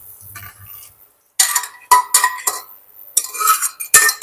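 A spoon stirs soybean and chana dal masala with coconut in a pan, scraping and clinking in loud, separate strokes after a quiet start, with no voices.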